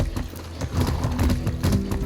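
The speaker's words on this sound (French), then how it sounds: "C'est aussi simple que ça de monter à cheval, dis donc." A horse ridden at a gallop in Far Cry 6, with rapid rhythmic hoofbeats thudding close and loud after a quieter opening.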